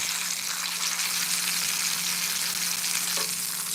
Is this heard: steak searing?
yes